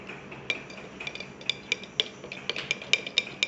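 A spoon stirs almond oil in a small bowl, giving quiet, fairly regular light clinks and taps against the bowl.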